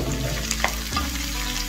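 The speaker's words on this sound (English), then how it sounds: "All you have to do is just saute it." Garlic, onions and vegetables sizzle while being sautéed in a hot pan, with a steady frying hiss and a few soft stirring scrapes, close and alone.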